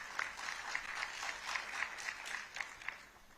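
Audience applause welcoming a guest at an agricultural science congress in Uttar Pradesh, a moderate patter of clapping with distinct individual claps standing out, heard from a distance.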